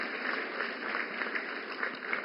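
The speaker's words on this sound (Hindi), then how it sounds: "जोरदार तालियों से स्वागत करें हमारी झांसी लक्ष्मी दीदी का।" A crowd applauds steadily at a government event in India honouring a women's self-help group member, with dense, continuous clapping and no pauses across the span.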